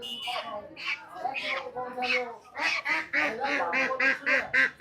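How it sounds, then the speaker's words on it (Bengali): Domestic geese and ducks at a rural weekly village market in Kansat give repeated close, loud honking and quacking calls in a rapid, uneven series that grows busier toward the end. "এখানে বড় বড় রাজহাঁস বিক্রি হচ্ছে ওই দিক দিয়ে হাঁস বিক্রি হচ্ছে"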